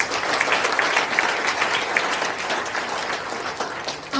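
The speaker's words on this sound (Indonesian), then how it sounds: "Tepuk tangan teman-teman." An audience applauds at an Indonesian Prudential insurance training session, with dense, steady clapping that fills the room and continues throughout.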